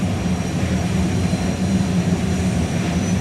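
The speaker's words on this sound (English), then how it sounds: "Gonna bring the turbine up to full power" Turbine-powered drag racing car Fire Force 2 spooling up at a drag strip, a loud, steady, continuous roar with a low rumbling drone that holds its level throughout, no voices over it.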